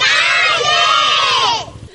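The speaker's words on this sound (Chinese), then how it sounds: "小朋友看到都忍不住欢呼" Children and a crowd cheer and shout excitedly outdoors in Tainan at a 3-metre snow-house display of a giant panda and her cub, a loud, dense burst of young voices that fades near the end.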